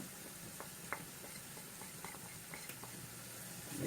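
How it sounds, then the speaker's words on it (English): A spoon stirs paprika, cumin and salt into a Colombian smothered potato sauce, giving soft, faint scraping and small clicks over a steady low background hiss. "Mix it all up."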